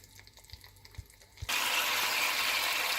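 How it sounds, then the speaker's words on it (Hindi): Sugar syrup poured into hot semolina halwa: after a few light clicks and taps, a sudden loud, steady sizzle bursts up and carries on close by. "क्योंकि एकदम से जो है गर्म चीज़ में जाता है तो थोड़ा सा उड़ना शुरू हो जाता है।"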